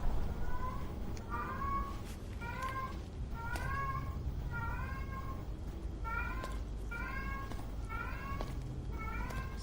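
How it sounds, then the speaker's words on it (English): A pet cat meows repeatedly, about a dozen short rising calls in a steady rhythm, close and clear over a low background rumble. "that's just my regular cat. She hears me talking, so she wants to make noise herself."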